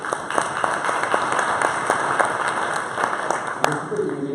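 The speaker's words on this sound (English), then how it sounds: "All right, so first round of applause for our helpers here." A modest audience at a programming talk claps for volunteer helpers, a light patter of individual claps over a steady room hum with one sharp knock partway through.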